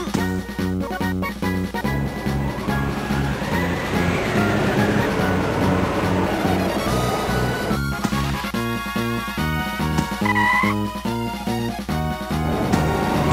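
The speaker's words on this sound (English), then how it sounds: "The train headed for Station Square will be departing soon." Train in the video game Sonic Adventure departing toward Station Square, with steady rhythmic rail clatter and mechanical tones playing loud and continuous under game music.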